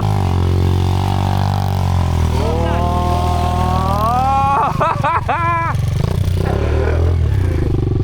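A dirt bike engine revs loudly and close by, climbing and falling in pitch in a few surges during a first-time riding lesson, with steady engine drone throughout and no clear talk.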